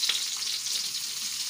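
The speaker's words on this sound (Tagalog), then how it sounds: "Lagyan natin ang sibuyas." Onion sizzles steadily in hot oil in a pan, a bright, close, continuous frying hiss with faint stirring.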